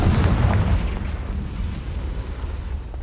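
A Confringo blasting curse explodes in the Hogwarts Legacy video game, opening with a loud, heavy boom that rolls into a long, rumbling decay, fading gradually while staying audible to the end.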